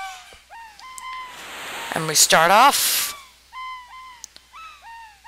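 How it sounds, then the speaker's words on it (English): Repeated chirping calls of birds from the Chrono Trigger video game, a series of short rising-falling chirps in clusters that come and go, with someone talking over the first part and a louder game effect in the middle. "with birds! Look at the birdies! Look at them all!"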